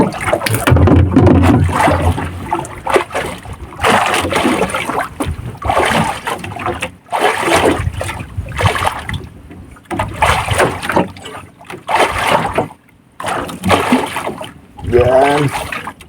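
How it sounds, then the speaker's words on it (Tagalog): Freshly caught squid washed in seawater aboard a small fishing boat; repeated bursts of splashing and sloshing water, close and loud, separated by short pauses, with someone talking over parts of it. "Kailangan hugasan natin kasi pag maitim madaling masira ang pusit."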